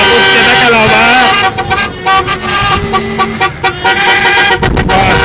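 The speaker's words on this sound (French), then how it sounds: "Ok, un klaxon vintage. Parquez là pour klaxonner, yeah!" Vintage car horn honking repeatedly at a street counter-demonstration in Sherbrooke, Québec, with tooting bursts over traffic noise and crowd voices nearby.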